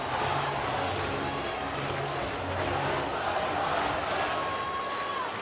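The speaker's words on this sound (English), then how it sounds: "Rockies crowd trying to drown out the Cardinals" Loud, steady roar of a Rockies home crowd cheering at a night baseball game against the Cardinals in Colorado, a dense continuous wash of voices with no breaks.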